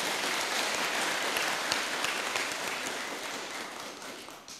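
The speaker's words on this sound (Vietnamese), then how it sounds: "xin dành một tràng vỗ tay thật lớn nào" Sustained audience applause at a talk on happiness, a dense wash of many hands clapping that holds steady and slowly tapers toward the end.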